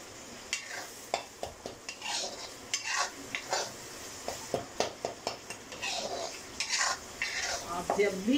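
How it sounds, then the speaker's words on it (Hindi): Masala for dum aloo frying in oil that has begun to separate at the edges, stirred with quick repeated scrapes and clinks of a spoon against the pan over a soft sizzle, close up and without voices. "इसे मैं 2 मिनट और अच्छे से भून के"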